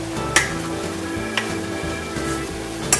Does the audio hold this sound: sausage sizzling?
yes